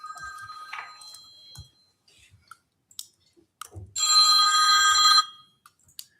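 A phone rings once during a commissioners' meeting, a bright, loud burst of ringing lasting about a second, set among scattered clicks and quiet room sounds.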